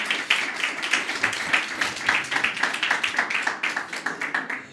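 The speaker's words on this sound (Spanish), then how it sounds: "Así que dense un fuerte aplauso, por favor, todos ustedes." A church congregation gives a round of rhythmic clapping, steady, fairly soft, somewhat distant hand claps spread across the room.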